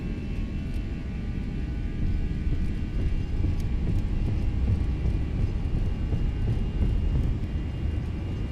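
The engines of an Airbus A320 in the FlightFactor simulator rise to a steady, broad, loud rumbling roar with faint whine and occasional clicks, and no speech.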